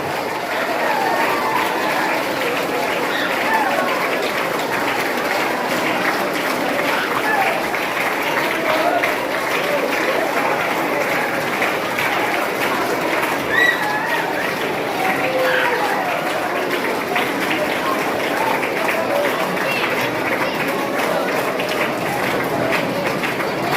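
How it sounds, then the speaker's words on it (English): Students give a sustained round of applause at a school felicitation event, a continuous even roar of many hands clapping at steady loudness for over twenty seconds, with a faint voice under it. "A good humbling round of applause, dear students, as we welcome him and his family members too."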